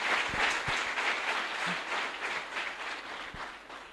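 Sustained, even applause from an audience at a stage business event, dense clapping holding steady throughout with no voices over it.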